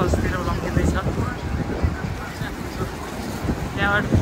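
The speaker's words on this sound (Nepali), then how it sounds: "त्यहाँ हावा चल्दो रहेछ" Gusty wind buffets a tour boat near Niagara Falls, rumbling loudly and unevenly across the microphone while voices speak over it.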